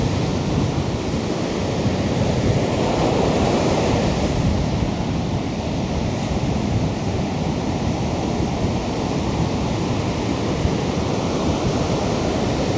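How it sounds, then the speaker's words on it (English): Strong wind blows across a beach during surf fishing, a dense, loud roar mixed with breaking surf that stays constant and unbroken from start to finish. "it's so windy, you can really see the line getting pulled"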